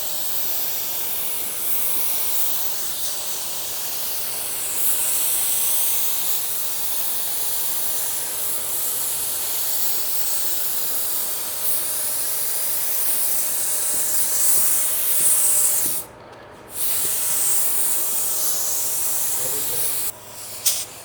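Innocraft Drizzle Pro spray gun spraying blender at about 15 PSI, a steady close airy hiss that runs continuously, broken by a short pause near the end and a quick final burst.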